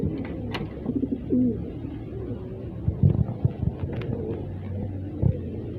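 Racing pigeons at the loft coo softly and repeatedly, with low throaty calls and occasional wing rustles, fairly close.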